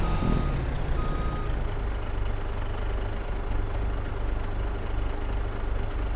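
Reversing beeps from a truck being loaded in Farming Simulator 22 repeat steadily over a loud idling diesel engine rumble, with no talking.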